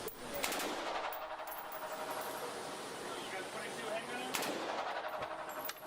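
Gunfire aimed at a zombie bin Laden target at an outdoor shooting session: two loud bursts of rapid shots near the start and the end, with a steady, noisy background between them.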